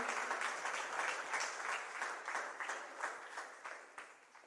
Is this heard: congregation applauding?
yes